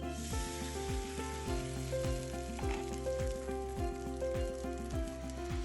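Water poured into hot cooking oil with chopped garlic and cumin, giving a steady close sizzle that runs throughout, while a rhythmic musical beat plays underneath.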